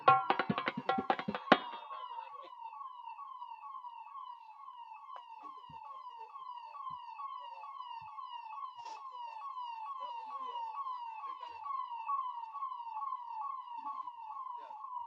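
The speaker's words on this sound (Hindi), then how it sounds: "ये एम्बुलेंस" Ambulance siren wailing in a steady repeating two-tone pattern on a crowded street in Ayodhya, loud and continuous after a brief burst of clatter at the start, with no talk over it.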